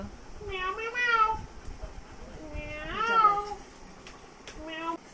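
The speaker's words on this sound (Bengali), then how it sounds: "গিনির ম্যাও খুব পছন্দ।" A cat meows three times, drawn-out and fairly close, with pauses between, over steady background noise.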